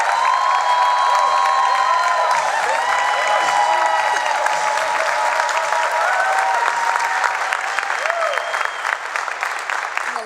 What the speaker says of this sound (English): I'm gonna let you soak up all those applause because you're so deserving of it